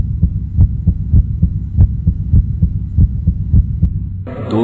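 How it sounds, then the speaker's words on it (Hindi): Horror story heartbeat effect: a deep, loud, regular double thump repeating about a dozen times at an even pace, alone, before a brief rustling noise cuts in at the very end. "दोनों की धड़कनें बढ़ती जा रही थी।"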